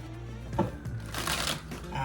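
Soft riffling and flicking of tarot cards being shuffled, close by, with a voice speaking faintly underneath.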